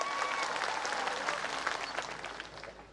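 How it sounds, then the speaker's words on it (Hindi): Steady crowd applause fills a political rally for a tribal-rights party gathering, dense clapping holding strong for about three seconds before tapering slightly, with no talk over it. "इसलिए एक बार जोरदार तालियां आप सबके लिए।"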